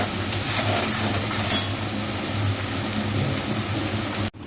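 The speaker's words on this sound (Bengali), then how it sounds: "এটা ভালো করে কষিয়ে নিই নাহলে রসুনের আদার কাঁচা গন্ধ ছাড়বি" Spice paste with garlic and ginger sizzles and crackles loudly and continuously in a frying pan, with occasional stirring scrapes.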